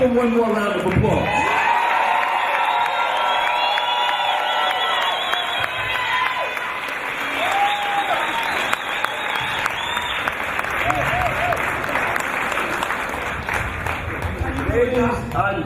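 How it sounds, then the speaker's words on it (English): An audience in Brooklyn, New York, in 2014 gives Dr. Sebi another round of vigorous, sustained clapping, mixed with cheering, whoops and scattered shouts from the crowd. "Let's give him one more round of applause."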